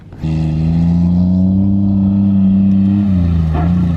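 A truck's engine bursts in abruptly and holds a loud, close, steady low drone while driving a jump course, easing slightly near the end.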